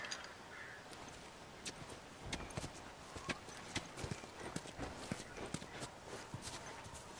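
Horse hooves clip-clop across hard ground in The Last of Us, a steady run of sharp, fairly close hoofbeats that keeps an uneven walking rhythm for several seconds over a faint outdoor background.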